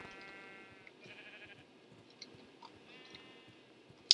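Sheep bleat a few times in the video game Slayne Survival, with short nasal calls over a quiet ambient background and a sharp click right at the end.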